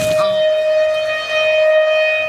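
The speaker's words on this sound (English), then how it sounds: "Warning sirens blared across counties well into the morning." Storm warning sirens sounding during severe weather, a loud steady wailing tone that dips slightly midway and holds, after a brief rustle at the start.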